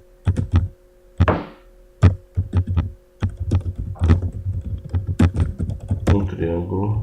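Several sharp key taps on a computer keyboard, including a firm press of the Enter key, come in quick irregular bursts at close range. A low steady hum runs beneath, and a brief soft voice enters near the end.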